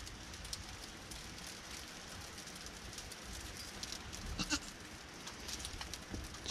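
A newborn baby goat in a barn bleats a few short times over a steady wash of rain-like noise, faint and close, with no talking.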